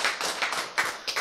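An audience claps in several quick, irregular bursts at a lecture, moderately loud and close, with no talking over it.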